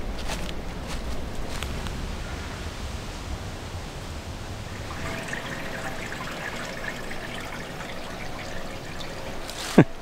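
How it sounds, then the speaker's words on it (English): A small brook streams through woods with a steady, even trickling wash, continuous at moderate distance, with faint rustling and a sharp click near the end. "Nice little brook here, actually."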